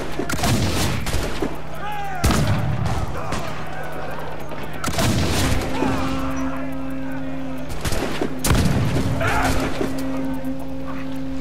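Heavy blasts and gunfire in Assassin's Creed IV Black Flag, several loud explosive bursts at intervals, with tonal game sounds between them and a player talking over parts of it.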